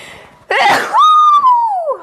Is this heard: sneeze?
yes